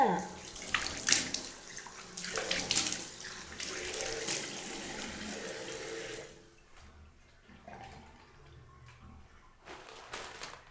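Tap water running into a sink while a toothbrush and face are washed, a steady splashing flow for about six seconds, then quieter, intermittent drips and small splashes.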